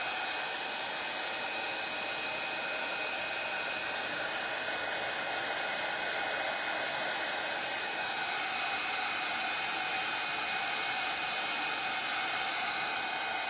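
A heat tool blows a steady, loud, unbroken rush of hot air to warm WoodUBend moulding for jewelry crafting, holding constant with no talk throughout.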